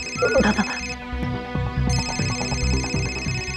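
An electronic phone ringtone rings steadily and fairly loud in a Hindi TV crime drama scene, with a repeating tonal pattern and some scuffling noise early on.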